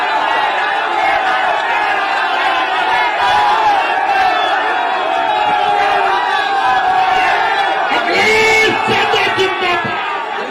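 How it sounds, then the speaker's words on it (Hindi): A large rally crowd at a Samajwadi Party event in Hapur roars, cheers and claps to welcome a speaker, a loud continuous mass of voices throughout with a swell near the end. "ताली बजाकर स्वागत करें।"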